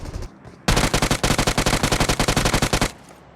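Automatic gunfire in a battle royale video game: one loud, rapid burst of about twenty closely spaced shots lasting roughly two seconds, preceded by faint game sounds.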